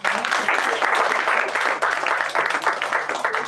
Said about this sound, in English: Doesn't that the performance deserve another round of applause?